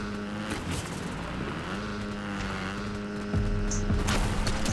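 A motorcycle ridden in the Fortnite video game gives a steady, droning engine hum that rises slightly in pitch and swells louder near the end, with no talking over it.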